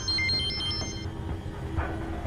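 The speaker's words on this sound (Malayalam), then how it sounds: "നീ ഒന്ന് ഫോൺ എടുക്ക" A telephone rings with a bright, electronic warbling trill that repeats several times over a low background hum, then fades out.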